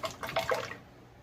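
Liquid pours into a homemade strawberry preserves ice cream mixture in a short, splashy gush that is near and moderately loud, then quickly tapers to quiet.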